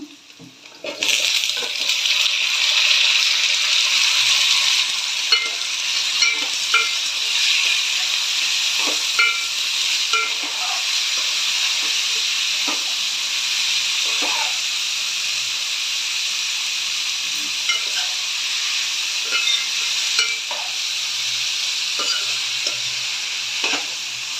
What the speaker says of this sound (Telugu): ముందుగా కోసి పెట్టుకున్న టమాటాలు, ములక్కాయ ముక్కలు కూడా వేసేసుకుంటున్నాను